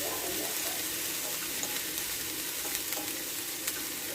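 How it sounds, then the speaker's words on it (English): Vegetables sautéing in a pan, a steady loud sizzle and crackle running throughout without a break, with occasional small pops. "we're going to let these saute"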